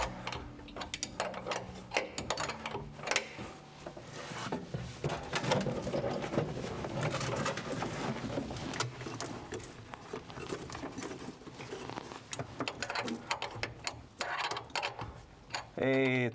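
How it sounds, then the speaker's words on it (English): Turning and tightening a threaded rod at the back of a car steering column, with washers involved: close, continuous ratcheting and clicking mechanical noise with irregular metallic ticks over most of the span. "So we're gonna screw the rod at the back, and if needed, we're gonna remove some washers also."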